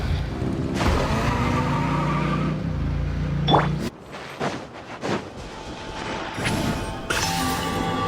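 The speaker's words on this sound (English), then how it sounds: "Rev the engines!" Cars revving in the Genshin Impact video game, loud game-engine roars and crashing bursts layered with dense music and effects, surging and dropping over several seconds.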